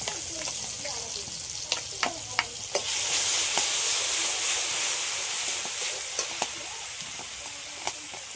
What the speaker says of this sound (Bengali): সবগুলোকে একসাথে একটু ভালো করে ভেজে নিয়েছি, এবার কিছুটা সর্ষে বাটা দিচ্ছি।